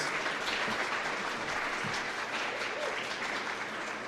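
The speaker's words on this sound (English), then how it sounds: "perhaps maybe we all give the candidates another round of applause" An audience at an all-candidates forum in Ottawa-Vanier gives the candidates a dense, steady round of applause, sustained and even for the whole stretch.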